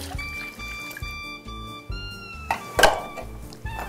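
Water pours into a mixing bowl holding egg yolks and oil for a Passover cake batter, trickling and splashing in short bursts with a louder gush near the end.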